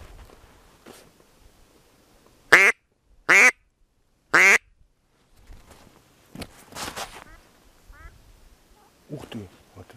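Sharp, loud duck quacks cut through a quiet peat-quarry hunting spot in three distinct bursts, answered by fainter quacking and rustling; a hunter imitates the call and people murmur quietly.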